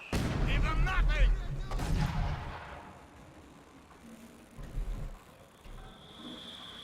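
Artillery fire and explosions from a barrage in the WWII strategy game Company of Heroes 2 boom loudly at the start. Quieter thuds follow later, with voices speaking over the rumble.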